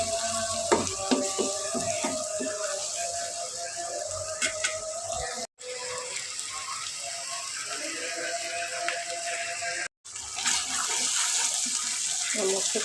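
Spice paste for chicken roast fries in a pan with a steady, close sizzling hiss and scattered scraping clatter, cut off twice by brief silences.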